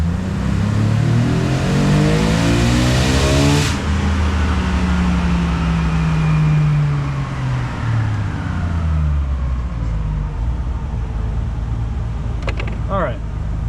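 A Jeep Wrangler with the 4.0 engine and a Windstar cold air intake accelerates hard in first gear, the engine note climbing loudly, then easing off into a lower drone as the vehicle rolls on.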